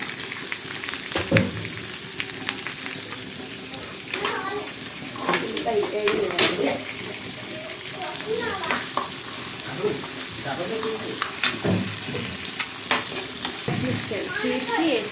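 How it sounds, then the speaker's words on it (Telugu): Onions fry in oil with curry leaves for raw banana iguru, a steady sizzle punctuated by repeated ladle scrapes and clinks, with a faint voice in the background. "ఇలా ఉల్లిపాయ వేస్తాను"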